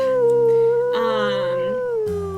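A wolf pup in the WolfQuest video game lets out a thin, wavering howl that lasts a couple of seconds, with a second voice briefly layered over it; the howl is loud and close, with no speech.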